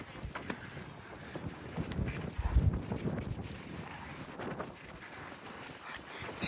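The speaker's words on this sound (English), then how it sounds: "Oh, it's windy today." Wind gusts buffet the microphone outdoors with low rumbling and a steady rushing noise, swelling briefly toward the middle.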